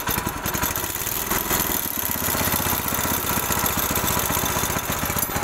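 A Varsha 5 HP gear-model machine engine runs steadily after starting, a loud close putter with a fast even firing rhythm that holds throughout.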